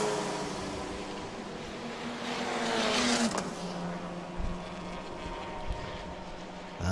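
Racing cars including a Porsche and a Toyota Supra pass on a circuit during a Thailand Super Series race, engine roar swelling to a loud pass before fading into a lower drone, with no voices.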